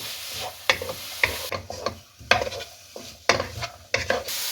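Chicken egg fried rice with black pepper and salt is stirred in a pan, a spoon scraping in a run of distinct strokes over a soft sizzle.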